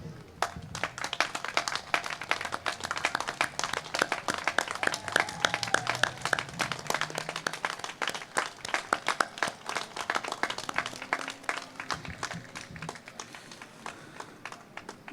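An outdoor audience at the 51st annual Let Freedom Ring ceremony applauds military service members, scattered, crisp individual claps from a modest crowd that stay steady, with faint low murmuring underneath.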